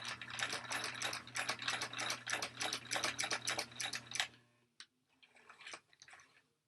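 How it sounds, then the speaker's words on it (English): A sewing machine back stitches through a thick tote strap, a fast, loud, rhythmic mechanical chatter with a low motor hum that stops abruptly, leaving a few quiet clicks and handling sounds. "Before I come completely off my strap, I'm going to back stitch."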